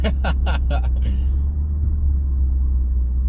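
A Lexus LS460 with its mufflers sawn off gives a low, steady exhaust rumble heard from inside the cabin, with a few brief sharper bursts at the start before it settles into a constant drone.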